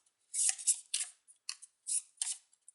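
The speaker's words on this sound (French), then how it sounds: "Je mélange les cartes restantes, les 7 cartes restantes" Seven leftover playing cards from a print-and-play solo card game are shuffled close by in quick, papery bursts with an irregular rhythm. No one talks.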